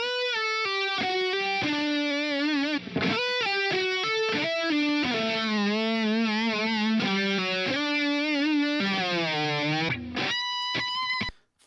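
Distorted electric guitar through a Marshall amplifier plays a loud, continuous run of sustained notes and chords, shifting pitch throughout with brief gaps, then ends in a few clipped, stabbing hits.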